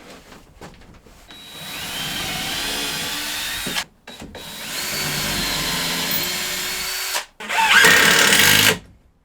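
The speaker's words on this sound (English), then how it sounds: "Pre-drill." Power drill pre-drilling holes during a poultry farm build, running in three sustained bursts with short pauses between, loud and close, the last burst higher pitched.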